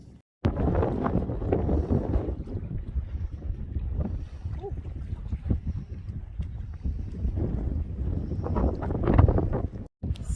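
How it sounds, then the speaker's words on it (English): Strong gusty wind buffets the microphone at the seaside port of Port Broughton, a steady low roar with rising and falling gusts throughout, with a brief pause near the end. "It's too cold and windy"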